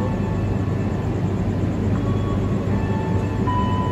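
Wijaya Kusuma passenger train at a station bound for Cilacap, a steady loud low rumble of rolling rail cars with faint squeals, continuous and close.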